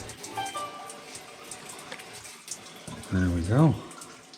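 A steady stream of gasoline rinses mud from the bottom of a John Deere A engine, a continuous liquid hiss and splash under a voice.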